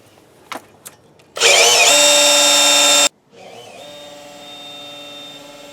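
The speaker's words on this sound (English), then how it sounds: "The drill is in the forward position." An electric drill, set to forward, whirs up loudly for a couple of seconds, stops abruptly, then runs again more quietly at a steady whine, after a few light taps, during engine cylinder leakdown testing.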